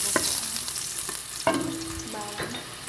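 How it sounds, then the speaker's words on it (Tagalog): Chopped garlic hits a hot frying pan of oil for sautéed lettuce, giving a soft steady sizzle with a few sharp clinks and scrapes of stirring. "At mainit na po ang kawali. Lagyan natin ng bawang."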